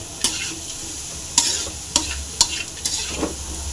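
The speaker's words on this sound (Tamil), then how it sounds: "அப்படியே நல்லா ஃப்ரை ஆகட்டும்" Gambli dry fish frying in a pan, with a soft sizzle broken by several sharp spatula clacks and stirs at uneven intervals, close up and with no voices.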